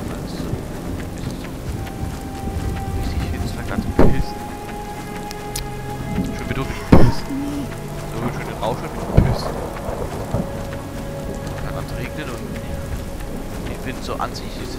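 Rain and thunder in the horror video game The Cursed Forest: constant rainfall patter with several sharp thunder cracks and rumbles at intervals, loud and close, with someone talking now and then over a faint ambient tone.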